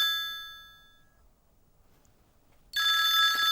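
A telephone bell rings in a bright, clangy burst that decays over about a second, followed by a quiet gap, then a louder, sustained ring starting near the end.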